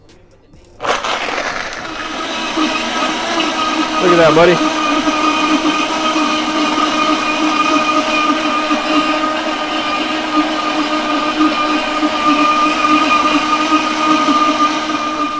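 A Vitamix blender mixing a chocolate shake starts abruptly and runs loudly at a steady, high-pitched whir, with a brief change in tone partway through and a voice speaking over it.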